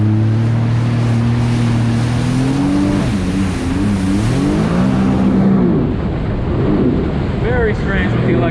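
A 2012 Sea-Doo RXP-X 260 personal watercraft with electronic throttle runs loud and close on open water, its engine drone rising and falling in pitch with throttle changes over rushing water and wind buffeting.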